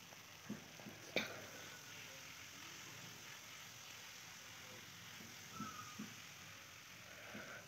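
Tomatoes, liver and potatoes frying in a pan make a steady, faint sizzle throughout, with a few soft scrapes and knocks of stirring now and then.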